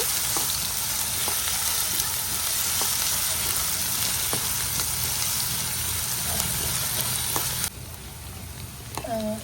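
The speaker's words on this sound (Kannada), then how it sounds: "ಈರುಳ್ಳಿನ ಹಾಕ್ಕೊಳ್ತಾ ಇದ್ದೀನಿ. ಈ ರೀತಿ ಆಡಿಸ್ಕೊಳ್ಳಿ. ಸ್ವಲ್ಪ ಬ್ರೌನಿಶ್ ಕಲರ್ ಬರಲಿ ಆನಿಯನ್" Chopped onions frying in oil for a crab masala, with a steady close sizzle and periodic spoon scrapes as they are stirred, a brief quieter moment near the end.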